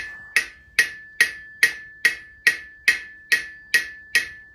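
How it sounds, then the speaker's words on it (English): Hammer blows ring out on a rivet in a forged iron bracket, about eleven sharp metallic strikes at a steady, even rhythm, each leaving a clear ringing tone that decays before the next, with no speech. "I'll just finish this rivet off right here"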